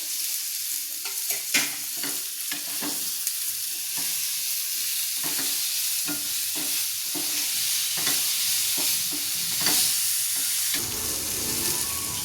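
Onions frying in a ladleful of oil in a pan, a continuous loud sizzle with repeated close stirring scrapes and taps of a spoon throughout.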